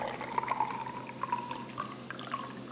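In the GTA 5 video game, a drink pours into a glass as a soft, faint liquid trickle with small bubbling plinks, continuous for about three seconds, with no voices.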